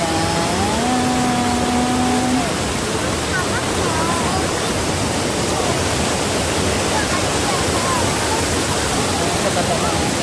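Steady, loud rushing water of a river fills the whole stretch like a flowing stream, with a brief voice and faint whistling tones early on.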